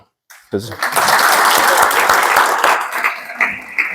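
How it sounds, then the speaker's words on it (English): After a brief silence, a room full of people at a university presentation breaks into loud applause that holds steady, with scattered voices mixed in. "Please give him a clap."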